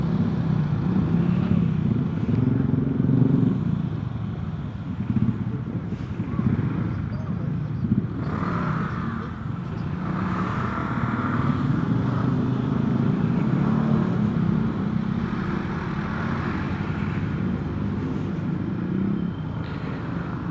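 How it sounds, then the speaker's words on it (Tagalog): Cars and motorcycles pass along Daang Hari Road between San Pedro and Muntinlupa. A continuous heavy engine rumble rises and falls for twenty seconds as vehicles go by close at hand. "Dami na sasakyan."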